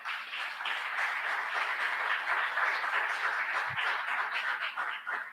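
Church congregation applauding during a Sunday worship service, a steady dense wash of clapping from many hands that holds at an even loudness for about five seconds, with no voices standing out.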